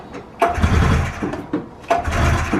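A 1995 Polaris XLT 600 snowmobile that has sat for years is pull-started, giving two bursts of engine sputter and rattle, each following a rope-pull scrape, with no engine catch to a steady idle.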